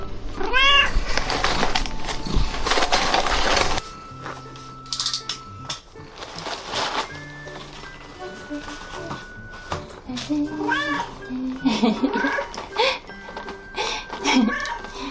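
A cat meows a few times amid background chatter and household noise, the calls short and fairly close, mixed with other clatter.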